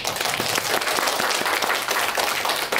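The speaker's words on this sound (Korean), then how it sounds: "자, 모두 박수 한번." An audience in a small district community hall auditorium in Seoul applauds at the opening ceremony of a folk-song lecture and fan meeting. The clapping is dense, loud and steady, with no pauses, for about three seconds.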